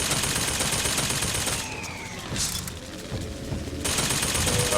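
Gunfire bursts in the video game BioShock Infinite Remastered, a dense rattle of shots filling most of the stretch with a brief lull in the middle before the shooting picks back up, loud and close.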